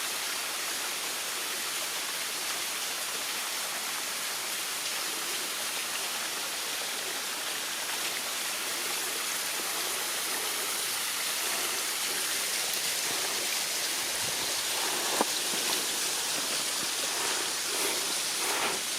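Waterfall at the Cirque de Gavarnie in the Hautes-Pyrénées, a dense continuous roar of falling and rushing water, loud and steady throughout with no voices.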